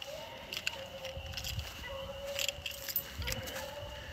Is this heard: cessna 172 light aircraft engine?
no